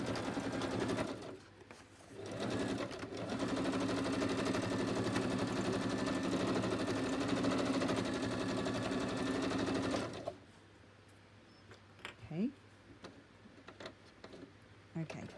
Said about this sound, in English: I'm just going to stitch that in place